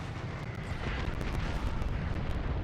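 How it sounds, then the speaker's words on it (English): Dense, continuous rumbling blast from an airstrike in a multiplayer war video game match, a heavy roar of explosion and crackling debris filling the whole stretch at steady loudness with no talk. "Airstrike on the EV."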